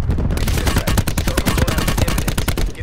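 Rapid automatic gunfire from Call of Duty Blackout, a dense, loud, continuous string of close shots crackling for the whole stretch with no pauses.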